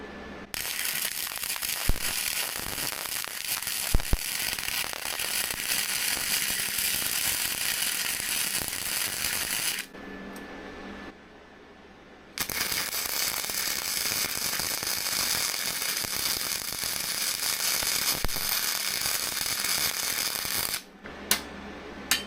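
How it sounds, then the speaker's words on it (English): MIG welder tack welding a rope friction bollard onto a grapple: a steady, loud crackling buzz that runs about ten seconds, pauses briefly with a click, then resumes for another stretch before stopping. "we got the welder set up here. I'm just going to tack this up quick"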